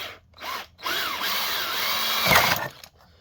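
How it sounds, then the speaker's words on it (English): A power drill whirs in short bursts, then bores steadily through a corner of a waterproof box with a rising whine before winding down; close and loud, no talking. "next is to drill a hole in each corner"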